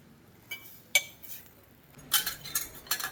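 A metal spoon scrapes and clinks against a pan while ground masala paste is stirred into onions for a Goan mullet fish curry, with several short, sharp clinks and scrapes over a quiet background.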